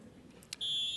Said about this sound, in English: Please know that the buzzers are going off